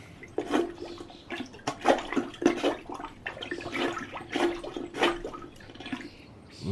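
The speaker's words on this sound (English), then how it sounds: "Let me just get my plunger." A plunger works a clogged toilet, making repeated wet, splashy water surges and gurgles in an uneven rhythm of close, moderately loud pumps.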